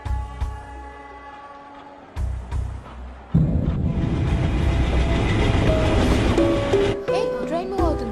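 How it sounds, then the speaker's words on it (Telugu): A train gets under way with a loud, rising rumble and rattle that runs on steadily. People say goodbyes over it. "ట్రైన్ మూవ్ అవుతుంది"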